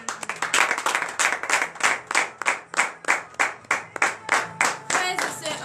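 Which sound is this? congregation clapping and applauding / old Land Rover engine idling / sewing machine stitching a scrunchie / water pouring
congregation clapping and applauding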